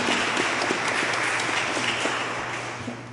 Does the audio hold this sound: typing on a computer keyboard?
no